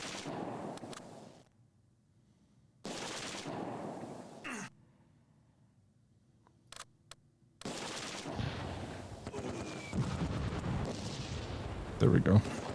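Vickers machine gun bursts in the Close Combat 2 war game, short sharp volleys of gunfire separated by quiet gaps, with a busier stretch of shots and battle noise toward the end.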